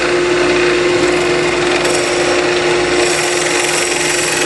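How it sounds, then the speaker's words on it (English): A 3/8 inch bit drills the finial hole in a wooden Christmas ornament turning on a lathe, a steady close whirring grind with a constant hum running evenly throughout. "now we're going to drill the hole for the top finial and the bottom finial"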